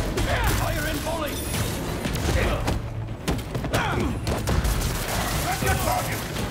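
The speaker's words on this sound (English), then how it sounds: "Fire in volley." A volley of gunfire in the video game Marvel's Spider-Man 2, a dense barrage of shots and thumps layered over continuous game noise, with a voice speaking through it.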